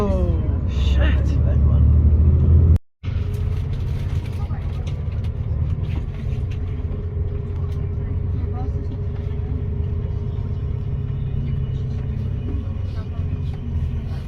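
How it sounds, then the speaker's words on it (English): Two trucks pass close by with a heavy, loud rumble that swells at first, then settles into a steady low drone of traffic that fills the whole stretch, with people talking over it. "It's 2 trucks."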